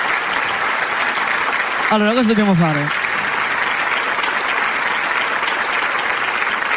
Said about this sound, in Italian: Facciamo un grande applauso a Damiano e a Desideria